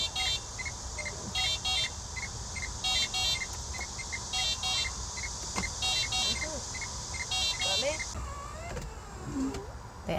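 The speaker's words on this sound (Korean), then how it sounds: "알람을 켜놓으면 이제 차가 왔다는 소리가 워낙 안 나기 때문에 차가 왔다는 표시로 이렇게 알람 계속 켜주시면" A Renault Twizy electric car sounds its alarm in place of a horn: a repeating electronic chirping beep in a steady pattern for about eight seconds, then it stops, leaving street noise.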